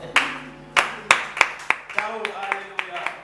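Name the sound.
congregation applauding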